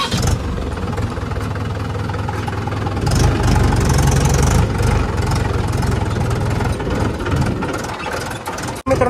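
A farm tractor's engine idles with a fault in its idle speed, giving a steady, close, low chugging rumble that swells louder for a few seconds midway before settling again, with no talking.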